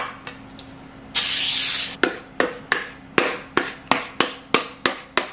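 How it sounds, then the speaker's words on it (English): Cooking spray hisses in one close burst of about a second onto a pie dish, followed by a run of sharp, evenly spaced knocks. "I'm going to spray my pie dish"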